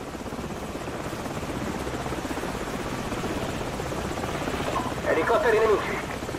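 Enemy helicopters in Call of Duty 4 Modern Warfare, on the Ultimatum mission, give a steady, loud rotor drone throughout, and a short voice breaks in near the end.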